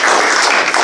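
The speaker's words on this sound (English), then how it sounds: "let's give another round of applause to Michael." An audience applauds after a talk about Chile, a brief burst of dense, loud clapping that fills the room with no voices over it.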